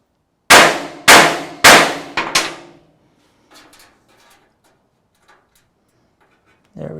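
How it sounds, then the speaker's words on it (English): Metal struck on metal to stretch a sheet metal patch filling an old trim hole: four sharp ringing clangs in quick succession, then a few faint taps and one more strike. "by me hitting metal on metal like that, it's actually stretching the metal"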